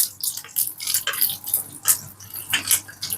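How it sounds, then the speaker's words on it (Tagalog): Minced garlic sizzles in hot oil in a pan, a close crackling hiss with irregular bursts of spatter. "igigisa lang natin yung ating bawang hanggang sa maging brown"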